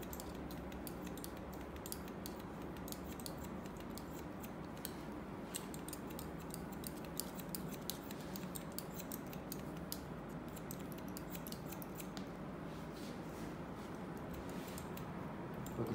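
Scissors snip through hair during a quiff haircut, a faint run of quick, irregular clicks over a low steady background with no talking.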